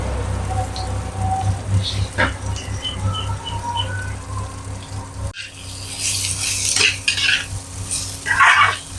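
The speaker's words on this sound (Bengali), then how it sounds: "সব সবজিগুলো একসাথে মিশিয়ে নিয়ে হালকা ভেজে নিতে হবে" Vegetables with broccoli stir-fry in a pan, giving a low sizzle with intermittent scraping and clatter from the pan, close by, while a person talks over it.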